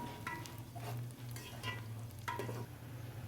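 Onions frying in hot oil turn light brown in a pan as they are stirred, giving a steady low sizzle. Soft scraping stirs recur about once a second, close and fairly quiet, with no talking.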